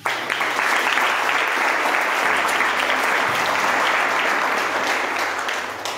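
Steady audience applause, a dense sustained patter of many hands clapping that holds at an even level for several seconds.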